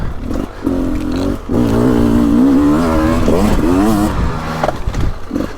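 A 2023 Beta 300 Race Edition two-stroke dirt bike ridden on a woods loop, its engine revving and rising in pitch close up, with brief dips as the throttle eases.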